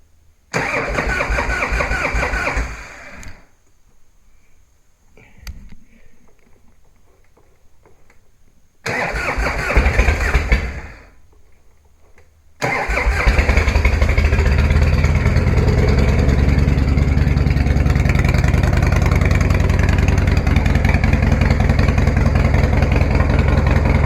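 A motorcycle engine cranks over several times with short bursts and pauses, catches, then settles into a loud steady idle that runs on without a break.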